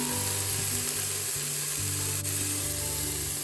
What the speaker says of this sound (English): Now I'm adding the chopped carrots.